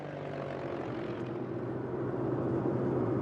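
A crop-spraying airplane passes over a road and farmland, its steady propeller engine drone filling the air, loud and continuous, slowly growing a little stronger as it flies over, with no voices.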